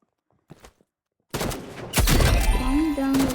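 Several gunshots ring out in quick succession at a shooting range, sharp and loud, after a brief near-silent pause.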